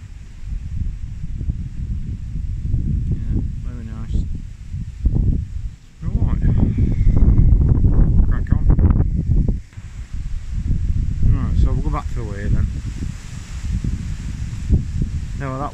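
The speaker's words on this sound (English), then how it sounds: "Wind's picked up." Wind gusting outdoors in a quiet village lane beside a church, strong blustery rumbling against the microphone that swells and eases, with a person speaking intermittently over it.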